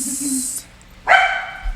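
A dog gives a short bark, preceded by a brief high squeal, fairly close and loud, with little else around it.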